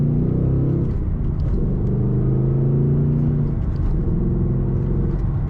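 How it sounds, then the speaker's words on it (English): A deep, steady V8 engine rumble from a 2018 Ford Mustang GT Fastback with 6-speed manual, idling and revving with a rich, throaty exhaust note throughout, no voices. "And an excellent exhaust note"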